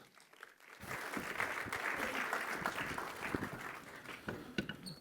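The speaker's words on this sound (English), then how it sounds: "give a round of applause for both, please." Conference audience applauding as two speakers are called to the stage, a sustained wash of many hands clapping that swells in after a quiet start and holds steady, moderately distant.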